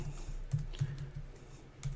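Computer keyboard keys tapped in a short burst of soft, fairly close clicks at an uneven rhythm, heard alone over a low steady hum.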